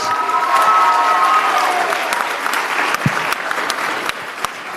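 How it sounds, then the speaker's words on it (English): Audience applause fills a town hall meeting on a weeknight, a dense, steady wash of many hands clapping close by, with a brief high tone near the start and a few sharper claps standing out as it continues. "Give a round of applause."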